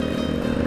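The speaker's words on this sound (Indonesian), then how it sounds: "ini motor matic, knalpotnya dibikin racing" A loud, rumbling automatic motor scooter with a racing exhaust idling close by on a city street, with a raspy, throaty exhaust drone that stays steady throughout.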